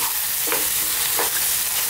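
Smoky eggplant for baingan bharta frying in a pan, a constant loud sizzle broken by two short scraping stirs.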